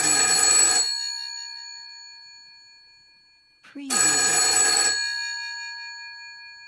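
Old telephone bell ringing twice, each a loud, bright electric ring of about a second that fades into silence, the second ring followed by a brief spoken word.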